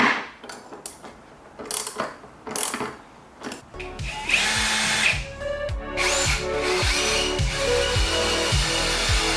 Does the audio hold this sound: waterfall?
no